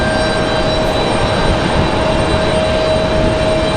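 A Boeing 777 jet maneuvering near Raleigh Durham International Airport gives a loud, steady broadband engine roar with a sustained whine, constant throughout with no talk.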